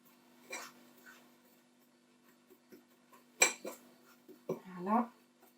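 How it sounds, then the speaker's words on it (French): A small fork stirring yeast and flour together in a bowl for a cake batter, giving scattered light clinks and scrapes with pauses between, close and soft over a faint steady hum. "On va prendre une petite fourchette pour mélanger les deux."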